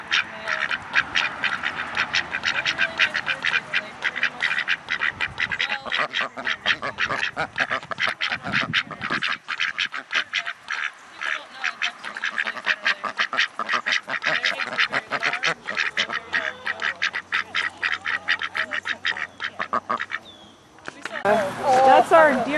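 Ducks quacking on a farm with a pond, a dense, rapid chorus of loud quacks and honks that continues nearly the whole time, close by, with a person talking over it.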